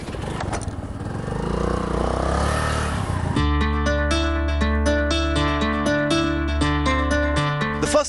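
A Honda Navi 110cc scooter engine runs with a steady, noisy drone for about three seconds before loud music takes over and covers it.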